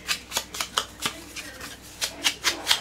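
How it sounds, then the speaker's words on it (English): A small sponge dabs along the edges of a paper card for a vintage look, soft, close, irregular brushing taps about every quarter to half second, with no talk. "Sponge the edges here like that."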